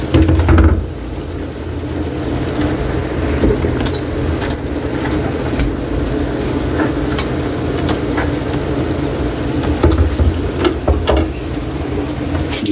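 Carrots fry in a pan for pancit bato, giving a loud, steady sizzle and crackle with occasional stirring scrapes and clinks throughout.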